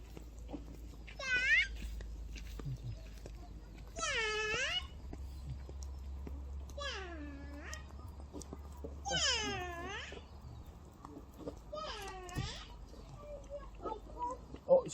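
Cat meowing repeatedly, about six drawn-out, rising-and-falling meows spaced a few seconds apart, fairly close, over a low steady background hum on a rural farm.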